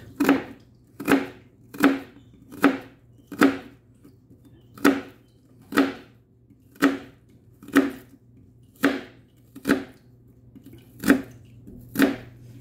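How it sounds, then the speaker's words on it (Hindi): A knife chops a large onion finely on a board, giving crisp, evenly spaced strikes, about one per second, close and clear over a faint steady background hum, with no talk. "थोड़ा सा टुकड़ा दिया, काटा है। बड़ी प्याज है, थोड़े सा टुकड़ा"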